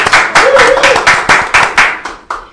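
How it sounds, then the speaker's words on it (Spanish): A small studio audience claps for the guests on a radio show. The loud, close, evenly spaced claps sound like a few people beating out a rhythm, with a brief tone under the early beats. "Señores, un aplauso nuevamente para nuestros invitados el día de hoy."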